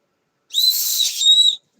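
Whistle built into a flashlight, blown once in a single shrill, steady blast of about a second. It is loud and close, with silence before and after.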